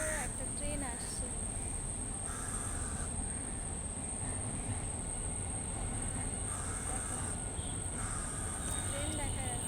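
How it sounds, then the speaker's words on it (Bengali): A train crossing a bridge at a distance, a steady rumbling roar with occasional wheel squeals, under a constant high whine and someone talking. "জুম করে দেখো তো একটা ট্রেন আসছে।"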